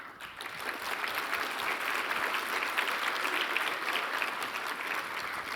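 Sustained clapping from a large keynote audience at a developer conference, applauding the Egg Hunt team; dense, even and continuous throughout.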